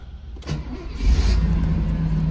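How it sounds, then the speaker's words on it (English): A 1980 Mercedes-Benz 450 SL (R107) starts cold and settles into a low, steady idle: a short crank, a catch, and a rising, loud, close engine rumble with no talking. "doing the test drive portion of a pre-purchase inspection on a 1980 Mercedes"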